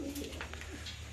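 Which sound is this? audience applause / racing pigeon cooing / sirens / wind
racing pigeon cooing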